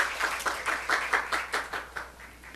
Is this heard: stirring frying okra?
no